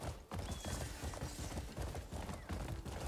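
Horse hooves clip-clop at a steady trot in the video game Crimson Desert, a quiet, continuous rhythmic patter of hoofbeats with no talking.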